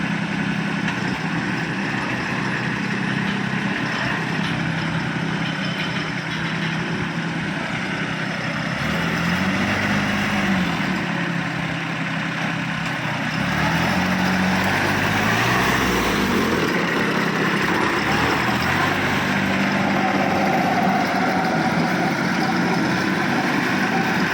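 A Kubota B2420 compact tractor engine idling nearby, a steady low diesel rumble with a faint wavering hum that holds throughout.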